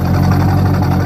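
A 1999 C5 Corvette V8 idles through a straight-pipe axle-back exhaust with the factory H-pipe, a loud, steady, close low rumble with a slightly clattery edge and no pauses.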